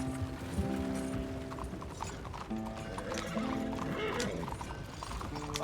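Horse-drawn carriage in Red Dead Redemption 2, with steady rhythmic clip-clop of hooves alongside creaking, rattling wheels and tack, continuous and fairly close for the whole stretch.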